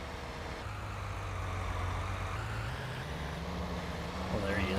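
Engine of a small green tractor in the Farming Simulator game, a low steady hum shifting slightly in pitch, faint and continuous under a voice talking.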